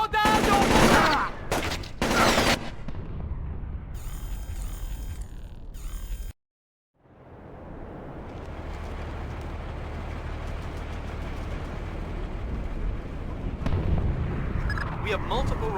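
Gunfire and explosions in the stealth game Splinter Cell Chaos Theory, with loud bursts and shots early, a brief silent gap, then a sustained rumbling barrage of combat noise, with voices shouting over it.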